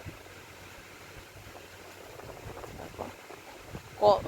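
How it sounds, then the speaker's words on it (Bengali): Balls of palm fruit fritter batter (taler bora) dropped by hand into hot oil to deep-fry, giving a soft, steady bubbling sizzle that grows slightly, with a brief louder splash near the end. "হাতে অল্প অল্প করে নিয়ে গোল গোল বলের মতন করে ছাড়ছি ভাজার জন্য"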